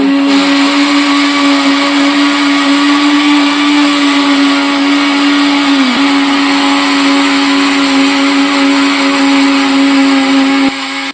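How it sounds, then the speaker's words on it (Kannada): A mixer grinder whirs loudly and steadily while grinding onion, spices, garlic, coriander and coconut, a constant high motor whine that stops abruptly at the end. "ನೋಡಿ ಇವಾಗ ಮಿಕ್ಸಿ ಮಾಡಿ ಇಟ್ಕೊಂಡಿದ್ದೀನಿ."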